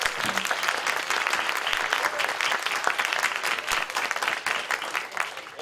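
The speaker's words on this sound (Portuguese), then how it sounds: "Eu gostaria de pedir uma salva de palmas." Audience applause in a lecture hall after a new professor of administrative law is announced, a dense steady clapping that holds for several seconds at even loudness.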